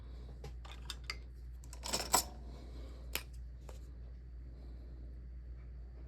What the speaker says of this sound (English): I'm gonna cut around that with some nicer scissors